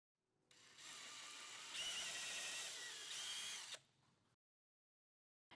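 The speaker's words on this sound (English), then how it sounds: "drill 2 pilot holes completely through the vertical using the upper holes in the pivot plate as a guide" A power drill bores pilot holes clean through a wooden vertical panel for a queen Murphy bed, guided by the holes in a pivot plate; one steady, loud whine lasts about three seconds, rises in pitch midway, then stops and winds down.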